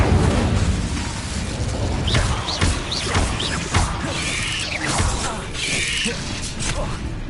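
A fiery blast and crashing impacts from spellcasting in Hogwarts Legacy, with several sharp bursts and a roaring whoosh over a busy, rumbling combat background.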